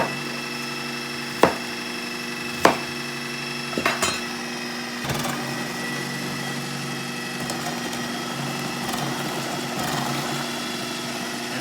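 A KitchenAid 14-cup food processor dicing onions, a continuous motor whir with a few sharp knocks early on as pieces are dropped in, close and steady.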